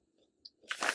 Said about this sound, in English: So that's a good chip. Has a good crunch.